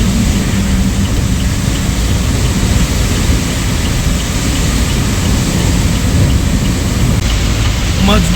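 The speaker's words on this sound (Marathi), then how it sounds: "मजबूतवाला पाऊस चालू झाला," Heavy rain drums on a vehicle driving on a highway at night, a dense, unbroken roar that stays loud throughout.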